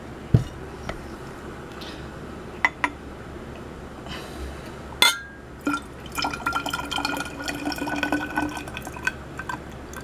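Vinegar mixed with Italian salad dressing seasoning is poured into a bottle, giving close, intermittent trickling and glassy splashes with a few sharp clinks.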